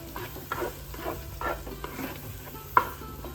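Fish curry masala with coriander and chili powder stirred in a pan, with repeated soft scraping strokes in a steady rhythm over a gentle sizzle, close by, plus one sharper clink near the end.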